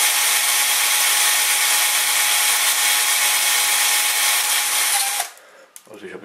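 A 1.5 mm drill bit bores holes in aluminium, a loud, steady high whine that runs for about five seconds, then cuts out, leaving faint handling noises.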